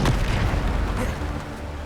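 A Bombarda spell explodes in Hogwarts Legacy with a loud, booming blast that rolls into a steady, rumbling roar for under two seconds.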